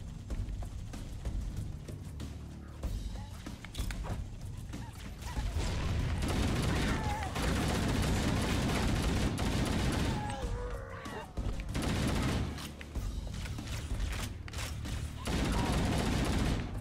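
Bursts of rapid gunfire from the video game Halo crackle and rattle in repeated volleys across the stretch, loud and dense with mechanical clicks between them, while a player talks faintly in places.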